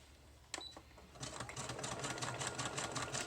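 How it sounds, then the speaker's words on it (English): A sewing machine stitching paper pieces down onto a paper collage, starting with a few clicks and then running in a steady fast rhythmic chatter, close and quiet. "I want to get it all sewn down"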